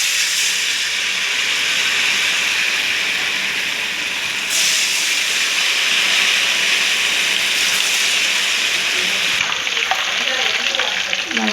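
Nendran banana ghee rolls fry in hot oil with a loud, steady hiss and bubbling crackle, close up and continuous, swelling slightly in places with no voices over it.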